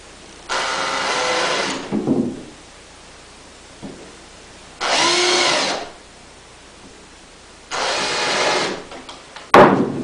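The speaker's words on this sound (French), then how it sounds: "ici on a les 3 trous dans lesquels on va pouvoir forer pour remettre des nouveaux trous pour la poignée" Power drill boring holes into a window frame sash for a new handle, three separate bursts of about a second or more each, loud and close, with short pauses between.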